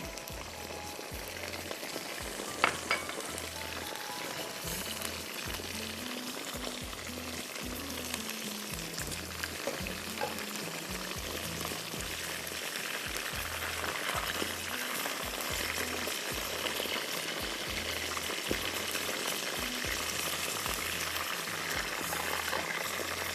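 Chicken pieces deep-frying in hot oil until golden, a steady dense crackle and sizzle running throughout at close range, with faint clinks of utensils and low tonal kitchen noise underneath.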